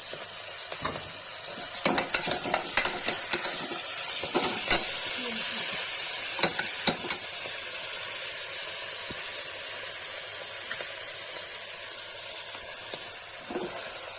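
Kashmiri-style saag greens with turmeric frying in a pan: a constant bright hiss and sizzle with scattered scraping, stirring knocks, and a voice heard faintly now and then.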